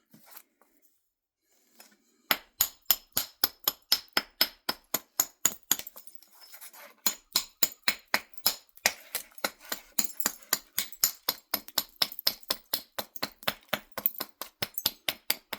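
Flintknapping: a stone edge is struck to run flakes off it. Crisp, close stone-on-stone strikes start after a short quiet and then come in a long, steady, rapid series of sharp clicks, with no talk.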